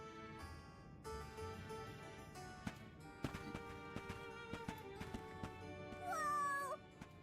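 Cats meow in the video game Visions of Mana, several short mews over soft background music and scattered game effects, rising to a drawn-out meow near the end.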